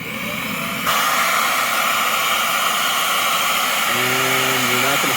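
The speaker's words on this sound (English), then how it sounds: "let's fire up the vacuum and get started" Vacuum running steadily and loudly at close range, drawing condensation out of a car headlight, its whooshing roar jumping up in level after a moment and holding, with a faint tonal whine near the end.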